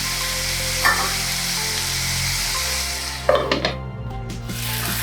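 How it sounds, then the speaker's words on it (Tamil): Tomatoes sautéing on a low flame in a pan for poori masala, a steady soft sizzle with a couple of brief stirring scrapes near the end, no talking. "இந்த தக்காளி நல்லா வதங்கணும், அதனால் இதை சிம்மில் வச்சு நாம் கொஞ்சம் வேக விட்டுருவோம்"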